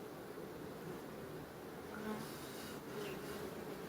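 Honeybees buzz steadily and closely around a queen bee marked with white paint, a constant droning hum with no voices.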